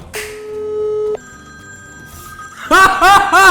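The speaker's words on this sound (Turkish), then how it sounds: "Bakalım telefon çalacak mı?" A mobile phone rings with a steady electronic ringtone, its sustained tones shifting pitch partway through, while a cheap gadget is being tested; voices and laughter break in loudly near the end.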